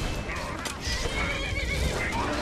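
A horse in the Skyrim video game whinnies in a drawn-out, wavering call, loud and close over a steady bed of game ambience, with no talk over it.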